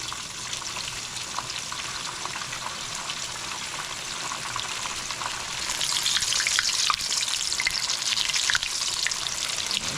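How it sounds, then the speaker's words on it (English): Chicken frying gently in a pan of oil while cooking a homemade chicken sandwich, a steady soft crackle and sizzle that grows louder and busier halfway through, close by with no talk. "I want it to fry, but I don't want it to fry the second I put it in there."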